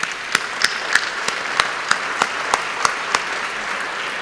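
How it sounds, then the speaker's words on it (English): Applause at a social justice anniversary gala, a soft wash of clapping from a crowd heard from a distance, with a few sharper individual claps standing out at a steady rhythm. "a round of applause for those who have made this evening possible"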